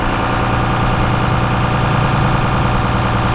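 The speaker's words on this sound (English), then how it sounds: "there's a high idle right there" A Cummins diesel engine held at high idle, around 1200 to 1300 RPM, gives a steady, loud, close-up drone with a dense low rumble and no breaks.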